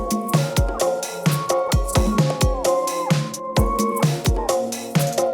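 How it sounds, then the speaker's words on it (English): A short piece of music built from three layered loops: a punchy rhythmic beat with repeating melodic stabs, loud and alone, with no talking. "So here I've got a little something that I've put together just by using 3 different audio loops."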